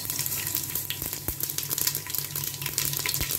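Cumin seeds hit hot oil in a pan for Tamil chicken curry, giving a steady close hiss and crackle with a few sharp pops scattered through, no talking.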